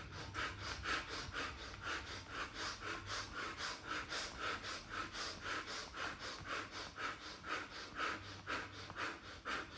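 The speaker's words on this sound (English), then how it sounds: "Now use your hands to rub sides of your hands. Do it 50 times." Hands rubbed briskly together along their sides during a yoga exercise, a fast, steady back-and-forth swishing repeated evenly for the whole stretch, close and clear with no talking.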